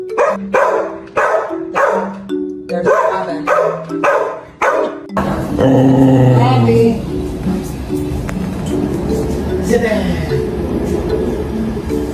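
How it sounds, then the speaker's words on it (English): Two dogs, Finn and Poppy, bark at a door at home, a run of rhythmic, evenly spaced barks followed by denser, overlapping yips and growly noise, with a voice talking over the later part. "Finn and Poppy would stand at the door, growling and barking."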